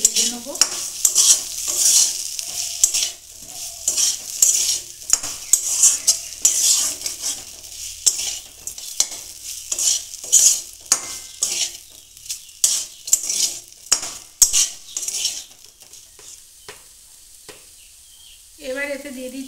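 Green pea kachori filling frying in a pan, with loud repeated scraping and clinking stirs over a steady sizzle, strokes coming in quick irregular bursts close by.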